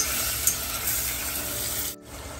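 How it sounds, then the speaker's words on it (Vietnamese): Shrimp stir-frying in a pan for moringa soup, a steady close sizzle with stirring scrapes that runs evenly, then cuts out abruptly near the end before resuming faintly. "cái này mình xào tôm để lát mình nấu cái nồi canh chùm ngay đó"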